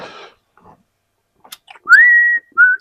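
Someone whistles near a hot rod being wired, two clear sustained notes with a brief rising slide, preceded by faint soft rustles and clicks.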